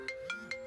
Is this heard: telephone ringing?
yes